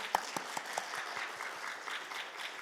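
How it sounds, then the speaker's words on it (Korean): Steady rhythmic clapping from a church congregation, hands striking together in time with a regular beat, with a few sharper claps standing out near the start. "박수를 맞춰 쳐"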